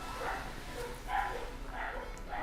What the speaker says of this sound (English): There's dogs barking now, and lots of people talking in the background.